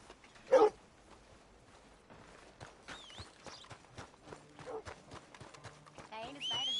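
Horse hooves clip-clopping at an irregular walking pace in the Red Dead Redemption video game, quiet and close, with a sharp loud snort or whinny near the start and people talking over later steps.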